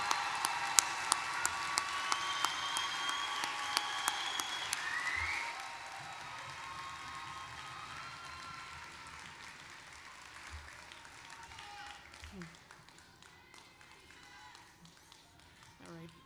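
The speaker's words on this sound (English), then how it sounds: "let's give our graduates one final round of applause" Graduates and guests at a fall university commencement ceremony clap in a burst of applause that fades after a few seconds into quieter crowd murmur and scattered taps.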